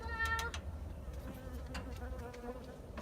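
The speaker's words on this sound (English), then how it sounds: "I got the bee stirred up" A bee buzzes close by in a short, faint, wavering drone beside a Timberking 1220 sawmill, its pitch shifting as it flies about over quiet outdoor background noise.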